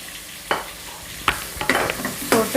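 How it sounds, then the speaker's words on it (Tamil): Onions frying with salt in a pan for a Muslim-style mushroom biryani, a steady close sizzle broken by four sharp scrapes and clatters of stirring, no voices. "வெங்காயம் போட்டுட்டு இந்த வெங்காயம் வதங்கிறதுக்கு கொஞ்சம் உப்பு போட்டுக்கலாம்"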